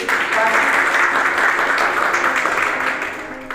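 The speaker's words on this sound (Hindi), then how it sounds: "उनके लिए एक बार तालियां बजा दीजिए" Loud, dense clapping from a crowd at a panchayat event in a market area, a continuous roar of applause that swells early and then slowly tapers off.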